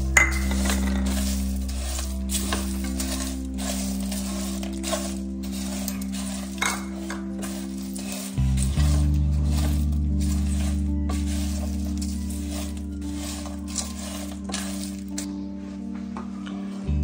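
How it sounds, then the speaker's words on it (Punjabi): Whole spices with fennel seeds dry-roasting in a hot pan for homemade chai masala, a steady low sizzle with scattered light clinks and rattles of seeds and utensil against metal throughout. "ਅਤੇ ਸਾਡਾ ਪੈਨ ਹੋ ਚੁੱਕਾ ਗਰਮ, ਅਤੇ ਸਾਰੇ ਮਸਾਲੇ ਵਿੱਚ ਪਾਵਾਂਗੇ ਅਤੇ ਹਲਕੇ ਜਿਹੇ ਰੋਸਟ ਕਰਨੇ ਇਹਨਾਂ ਨੂੰ"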